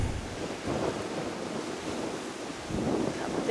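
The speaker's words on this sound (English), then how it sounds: "How big those waves get." Large ocean waves break on the Maui shore in a steady, rumbling roar, heard from a distance and swelling slightly toward the end. Wind buffets the microphone throughout.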